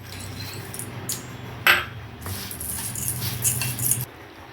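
Rice and masoor dal are stirred together in a serving bowl, producing soft, scattered grainy rustles and a single sharp clink of a utensil against the bowl, close and quiet with no talk.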